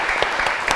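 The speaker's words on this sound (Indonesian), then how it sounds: "kita ngasih terima kasih, tepuk tangan dulu dong buat materi kita kali ini." Audience applause on the set of an Indonesian educational broadcast, a steady wash of many hands clapping at close range, brief and alone without talk.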